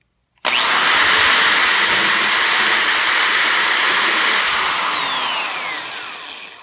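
A power drill spins up sharply and whines steadily at 2,500 RPM for several seconds while drilling a hole, then its pitch slowly drops as it winds down.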